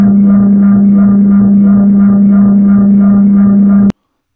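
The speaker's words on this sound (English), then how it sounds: "and this is the distortion." A 200 Hz sine wave run through an audio codec with its latent dimensions amplified, giving a steady buzzy, harmonically rich distorted tone that holds one pitch for about four seconds, then cuts off abruptly.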